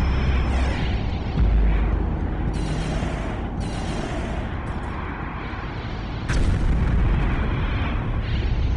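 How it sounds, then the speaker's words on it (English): A target site explodes and burns in the space strategy game Homeworld: Cataclysm, giving a loud, sustained roaring blast with rumbling bursts and a fresh surge near the end, with no talking. "Target site explosion and fire."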